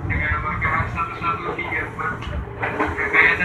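Inside a KRL commuter line train carriage running on rails, a steady rumbling hum of the moving car fills the space, fairly close and even throughout.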